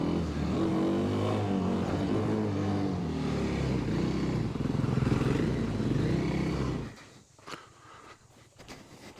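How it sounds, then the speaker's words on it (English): A Kawasaki KLX 300 dual sport motorcycle revs hard nearby for a wheelie, a loud rising engine drone held for several seconds before cutting off to quieter rustling. "I'm gonna wheelie this bridge."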